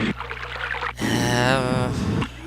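A short burst of watery, bubbling tones from the video game Myst, Selenitic Age, swells up after a quiet hum, rippling for about a second and a half before cutting off, like synthesized flowing water.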